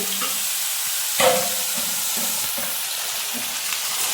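Mixed vegetables with cumin, green chilli, tomato, salt and turmeric stir-frying in a pan: a steady, close sizzle with a louder scrape or toss near the start, then continued soft crackle.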